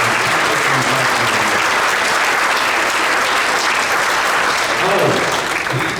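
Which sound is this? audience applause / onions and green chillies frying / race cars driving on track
audience applause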